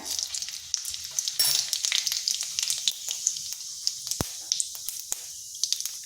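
Close, steady sizzling of cumin seeds in hot oil in a wok, with sharp crackles and pops scattered throughout.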